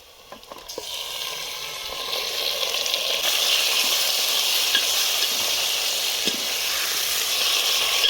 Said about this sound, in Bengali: এবার মাংস দিয়ে দেবো।